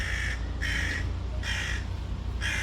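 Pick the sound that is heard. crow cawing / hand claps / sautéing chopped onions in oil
crow cawing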